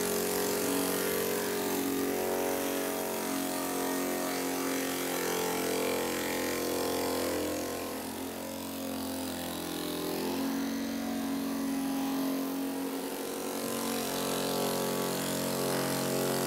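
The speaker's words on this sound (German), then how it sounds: "Mit dieser 50 Kilogramm schweren Maschine fräst Ralf Mattern eine Nut für den Boden in das Holz." A heavy 50 kg milling machine cuts a groove for the head into barrel wood, a steady, loud, droning motor whine with a dense grinding hiss, holding almost unchanged throughout with a brief dip midway.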